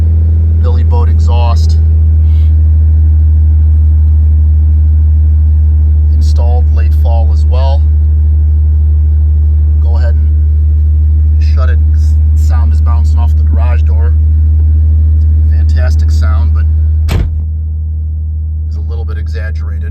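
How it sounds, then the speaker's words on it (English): A 1990 Nissan 300ZX idles through a Billy Boat exhaust with a loud, steady deep rumble throughout, close to the microphone, while someone talks over it; the drone drops slightly near the end after a sharp click. "Of that beautiful Billy Boat exhaust."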